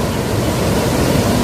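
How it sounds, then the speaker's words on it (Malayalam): Athirappilly waterfall in the forest, heard as a loud, constant roaring rush of falling water with no breaks and no voices. "നമുക്കിവിടെ വെള്ളച്ചാട്ടം കാണാം."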